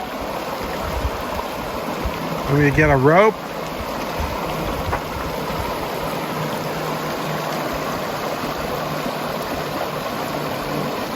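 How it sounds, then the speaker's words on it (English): Continuous rushing of a stream at a hiking-trail water crossing, a steady broadband roar throughout, with a person speaking briefly over it and a short whistling or squealing sweep partway through. "Extreme water crossing."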